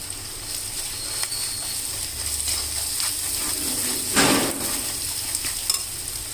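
Ginger and garlic fry in hot oil in a pan for a tiger prawn curry, with a steady sizzle, a few scraping stirs and one louder stirring swish midway.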